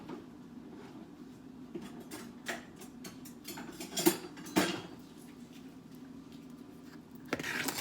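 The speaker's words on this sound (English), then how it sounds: "In here, I have my dry ingredients, so I can go ahead and start stirring that." Dry cupcake ingredients stirred in a bowl, giving light repeated scraping and clinking of a utensil against the bowl at a moderate, close level, with a few sharper knocks near the middle and the end.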